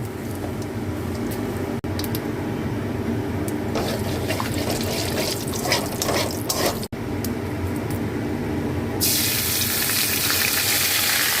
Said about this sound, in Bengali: এবার আমি এতে কালো জিরে ফোড়ন দিলাম।